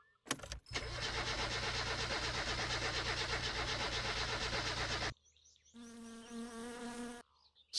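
Car engine in the video game My Summer Car, started with choke and throttle on a low battery: a loud, steady buzzing drone runs for about five seconds, cuts off, then a quieter, lower pulsing engine hum follows and stops.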